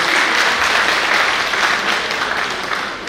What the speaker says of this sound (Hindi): जोरदार तालियों में इनका स्वागत करिए।